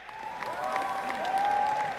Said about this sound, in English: A big round of applause to them.